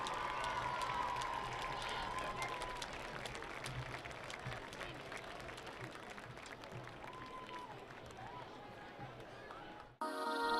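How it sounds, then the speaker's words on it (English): A crowd at a high school football game gives sustained applause and cheering for the homecoming court, a steady, fairly distant wash of clapping under a voice speaking over the stadium PA. "one big round of applause for all 14 court members"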